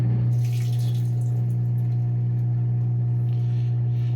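A new dishwasher hums steadily on a heavy duty pan wash cycle, a loud constant low drone with faint water swishing near the start and end.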